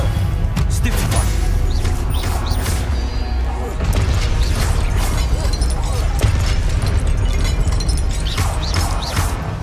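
Magical spell impacts in Hogwarts Legacy, Incendio and Stupefy, loud crashes and whooshing blasts layered over a dense, continuous game soundscape, with a voice speaking throughout.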